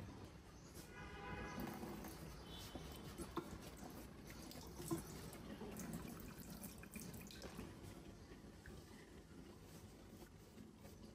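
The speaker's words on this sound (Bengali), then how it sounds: "একটু গায়ে ময়লা ছিল তাই আর একটু ধুয়ে তারপরে রাখবো" A steel flour scoop being rinsed under a running kitchen tap, with a steady wash of water and splashing that carries on close by throughout, plus a few brief clinks and drips.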